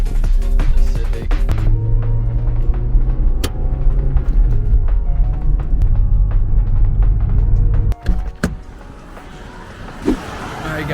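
A 2023 Honda Civic Type R fitted with an AWE Track exhaust rumbles steadily and loud, with a deep droning tone and a few sharp knocks and thumps near the end.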